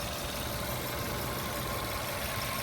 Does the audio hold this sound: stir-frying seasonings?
no